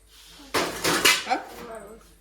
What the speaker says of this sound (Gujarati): ડબ્બા ખખડાવો છે તે